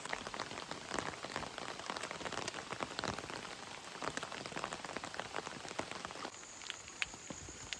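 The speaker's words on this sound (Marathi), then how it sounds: "पाऊस आहे ना असा रिमझिम चालूच आहे या टायमाला" Light, steady monsoon drizzle at a forest campsite, a faint, even patter of raindrops with occasional brighter taps and no voices.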